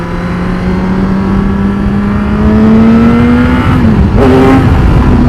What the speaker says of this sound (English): All I'm doing is revving the engine.